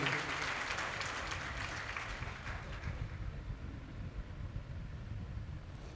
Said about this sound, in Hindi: जोरदार ताली अपने मीडिया साथियों के लिए।